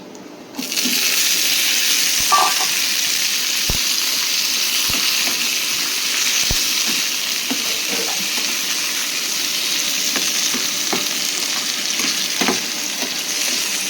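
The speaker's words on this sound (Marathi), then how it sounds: "चला, आता मिरच्या टाकूया आपण याच्यामध्ये." Green chillies hit hot oil in a home kitchen pan, bursting into a loud, steady sizzle that holds throughout, with a few faint clicks and taps of a utensil.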